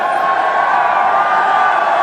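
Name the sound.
cricket stadium crowd cheering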